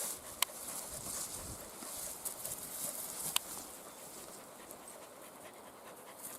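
Quick, soft rhythmic panting of dogs nearby in the mountains, continuous and fairly faint, with a couple of sharp ticks and outdoor background.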